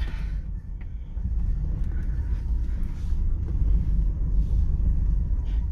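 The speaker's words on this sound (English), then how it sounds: "Trying to avoid stuff while I have the foot on the brake and the throttle to keep it going." A Honda Acty mini truck creeps up a ramp in a garage, its small engine giving a steady low rumble that swells slightly as the throttle is held against the brake, with no talk.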